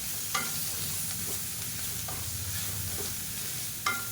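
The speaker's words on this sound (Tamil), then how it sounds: "சேர்த்துட்டு லேசாக வதக்கி விட்டுக்கலாம்." Grated coconut sautés with onions in a hot pan, a steady close sizzle with soft scraping stirs and a few light utensil knocks against the pan, continuous and unaccompanied by speech.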